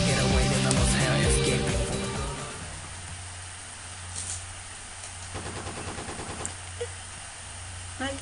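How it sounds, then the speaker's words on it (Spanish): Rapid bursts of gunfire in the video game Lucky Dog 1 rattle out, loud and dense at first, then thinning to scattered shots and short volleys over a steady low hum. "Ay, qué chidos balazos, ¿eh?"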